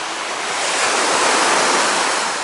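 Sea waves wash ashore at Alanya, Turkey, a steady close roar of surf with wind noise that swells slightly and recedes, with no voices.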